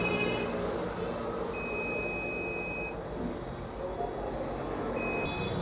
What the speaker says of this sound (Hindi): बीप की आवाज़ आ रही है